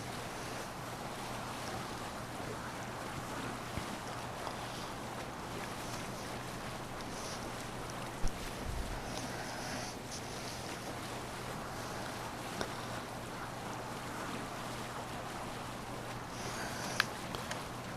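Longship under sail in Assassin's Creed Valhalla: a steady wash of wind and surf runs throughout at moderate level, with creaking water and open-sea ambience and a few faint knocks, no talk.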